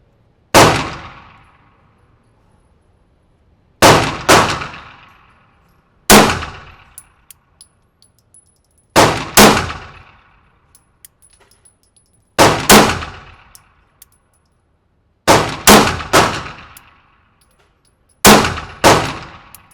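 Sharp shots from a Springfield Hellcat Pro pistol fitted with an Apex trigger ring out singly and in quick pairs, each loud crack trailing into a ringing decay, spaced a few seconds apart.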